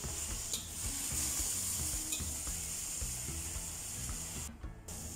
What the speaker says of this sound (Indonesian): Kita tumis sebentar saja